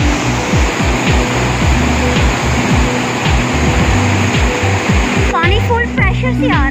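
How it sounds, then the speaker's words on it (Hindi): Water rushes at full pressure through Rasool Barrage on the River Jhelum, a loud, dense, continuous roar with a low rumble underneath, steady throughout and close by. "पानी फुल प्रेशर से आ रहा है।"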